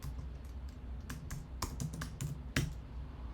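Quick, irregular bursts of clicking keys on a computer keyboard, close and fairly quiet, with short pauses between keystrokes and no talking.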